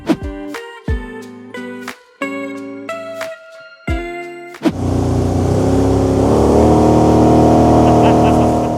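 Several sharp bursts of sound with brief gaps, then a small motorboat engine on the Loire river starts and drones steadily and loudly, close by.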